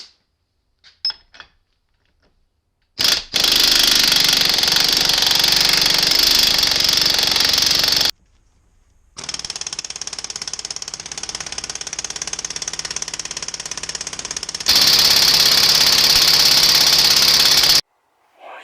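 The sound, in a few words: impact gun spinning off an Arctic Cat differential nut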